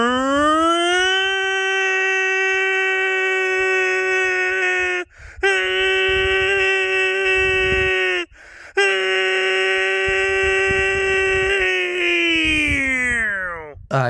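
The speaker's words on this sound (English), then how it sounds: "The tornado alarms are going off now." Outdoor tornado siren wailing in a long, steady, loud tone, cut by two short breaks and then winding down in pitch at the end, with faint background noise beneath.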